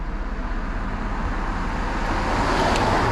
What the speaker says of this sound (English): Just wait for this car to go by.